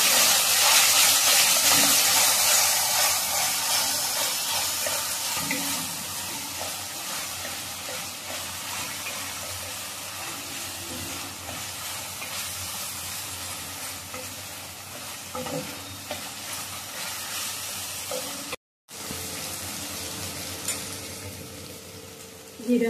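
Onions and tomatoes cooking in a pan over a flame, a steady, moderate sizzle and hiss with soft stirring scrapes, briefly cut off near the end, no talking.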